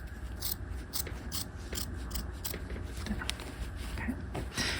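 Scissors trim and grade the seam allowance of a half-scale jacket, a quick series of close, crisp snips and clicking blade closures at a steady pace.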